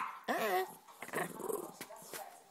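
A dog close by lets out a rising vocal growl that wavers in pitch, followed by softer grumbling and rumbling noises, with a voice murmuring faintly around it.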